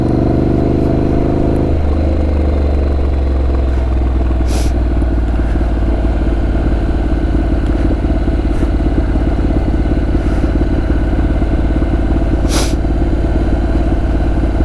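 A motorcycle rides along steadily, its engine a loud continuous drone close up, with a shift in pitch early on, followed by constant rumble and road noise throughout.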